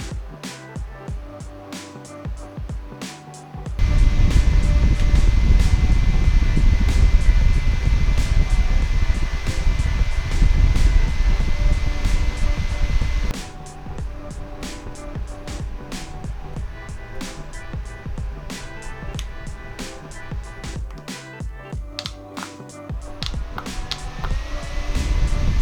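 A small dual-head electric fan for car and desk, rated at 10 watts, whirring into a steady, loud airy rush, then dropping to a quieter hum scattered with light clicks.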